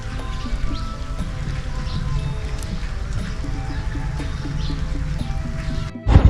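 Steady rain falls and drips around a sheltered spot in the countryside, a dense even patter throughout, ending in a few louder close thumps.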